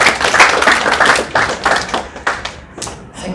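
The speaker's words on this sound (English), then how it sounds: "Round of applause" Wedding guests give a round of applause right after the vows: close, uneven hand claps in quick bursts, loud at first and then thinning out over a few seconds.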